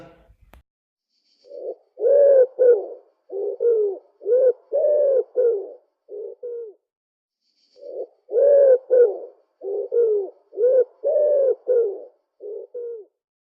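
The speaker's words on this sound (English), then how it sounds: "pigeon," A pigeon coos loudly and close by in two similar phrases of soft, throaty, rolling notes, separated by a brief pause. There is no other sound.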